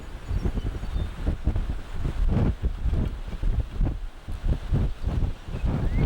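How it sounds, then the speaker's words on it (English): Gusty wind buffets the microphone on an open prairie of tall big bluestem grass. Low, rumbling bursts rise and fall steadily throughout, loud and close, with no voices. "It's a windy day, very windy day."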